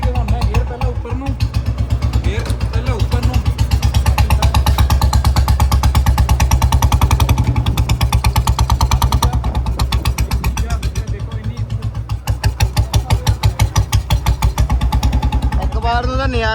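Old-model Royal Enfield Bullet 350 Standard engine running close by, a loud, steady, rapid thumping beat that holds throughout, lifting briefly in revs near the end.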